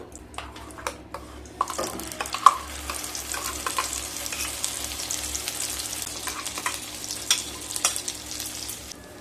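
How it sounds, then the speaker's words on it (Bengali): Spice paste hitting hot ghee in a kadai for kadai paneer, with a few sharp clicks first, then a soft steady sizzle and crackle. Occasional stirring scrapes and pops, fairly quiet, no talking. "এবার দিয়ে দেব পেস্ট করে রাখা মশলা।"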